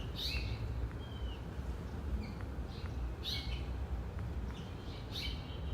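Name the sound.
house finch singing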